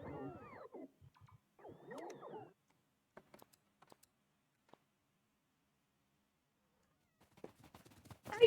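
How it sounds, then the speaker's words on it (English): A cat meows close by in a few wavering cries at the start, falls silent apart from faint taps, then gives more soft mewing at the end. "Hey, kitty cat."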